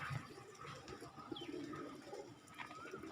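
Soft pigeon cooing rises and falls in a quiet pigeon loft, birds sitting on eggs, low murmuring calls repeating close by with a light background hum.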